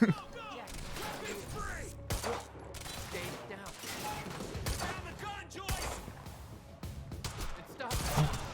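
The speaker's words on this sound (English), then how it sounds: "Ooh, I get to actually shoot now." Gunfire in the video game Quantum Break, a run of shots and bursts mixed with game sounds and music, moderately loud, with a player's voice talking over parts of it.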